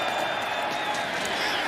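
A home crowd at an XFL football game between the Arlington Renegades and St. Louis BattleHawks roars in a dense, sustained wash of cheering and applause.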